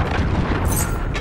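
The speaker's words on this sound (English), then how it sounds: "Enemy cruise missile incoming" An incoming cruise missile strikes in Call of Duty: Modern Warfare. It sounds as a loud, deep, rumbling blast lasting about a second, with a voice faintly audible in the mix.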